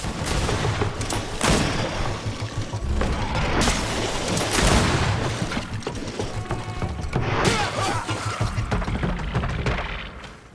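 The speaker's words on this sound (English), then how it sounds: "Watch out! Grenade!" In the video game GreedFall, gunfire and a grenade blast during a battle produce loud booms and bursts of shots, with mechanical clatter and shattering debris, in dense irregular waves that fade toward the end.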